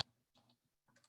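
Quiet, close clicks of typing on a computer keyboard come in a few short bursts separated by near silence, with no talking.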